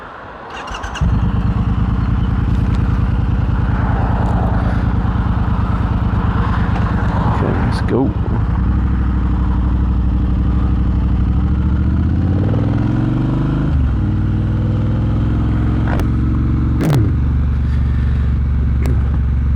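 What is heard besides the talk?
Triumph Bobber 1200 motorcycle engine rumble with slip-on exhausts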